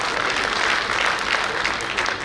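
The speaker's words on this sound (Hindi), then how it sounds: "जोरदार तालियां दें उनके लिए" Loud, dense applause from an audience at a Lions Club gathering, steady continuous clapping close by with no pause.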